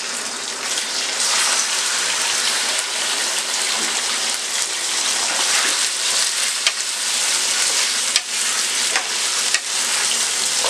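Chicken frying in a pan with cumin seeds, a loud steady sizzle running throughout with a few faint clicks of stirring, no talking.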